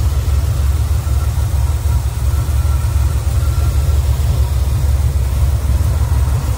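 A recently rebuilt 350 Turbo-Fire V8 in a 1970 Chevrolet Nova idles steadily, a loud, even low rumble that runs throughout with no talk over it.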